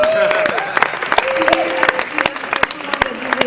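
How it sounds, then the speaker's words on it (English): Audience clapping at a Eurovision meet and greet in Stockholm, a short burst of close, crisp applause from a small crowd that carries on steadily for a few seconds. "So applaud for Calliope"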